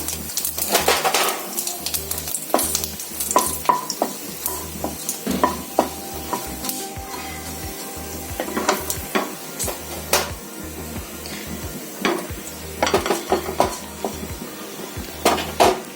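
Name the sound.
black cumin and dried chillies sizzling in hot mustard oil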